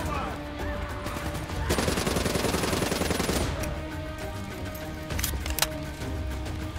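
Sustained automatic gunfire from Call of Duty: Black Ops 3, a rapid burst of roughly two seconds followed by scattered single shots under a steady game soundscape with occasional voice.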